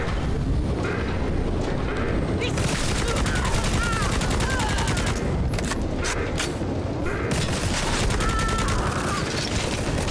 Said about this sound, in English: I'm shooting the locks off.